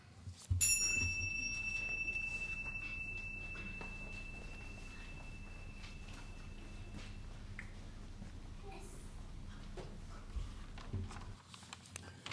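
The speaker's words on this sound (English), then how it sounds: "let us center our hearts and minds with the ringing of the chimes." A single chime is struck at a worship service and rings out clearly, its bright tones slowly fading over several seconds in a quiet room.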